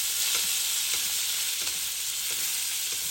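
Salmon sits in browned butter in a pan, a dense, even sizzling hiss with faint repeated taps and splashes as the butter is spooned over it, steady and close with no one talking.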